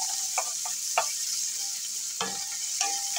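Onions being stirred in a pan on low heat with a spoon, giving a steady close sizzle and several soft scraping strokes over about three seconds, with no talking.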